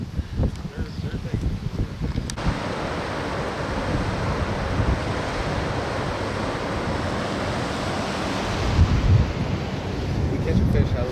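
Steady roar of rushing water pouring over the George B. Stevenson Dam spillway, broadband and continuous, with wind buffeting the microphone and some faint talk underneath.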